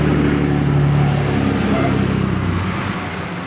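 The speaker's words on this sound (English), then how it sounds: "Wait for the truck to go by there." A large truck rumbles past outdoors beside a garden plot, a loud, steady low engine drone that holds for about three seconds and then begins to fade away toward the end.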